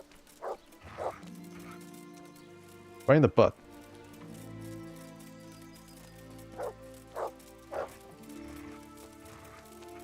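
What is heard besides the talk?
dog Mutt barking, from video game Kingdom Come Deliverance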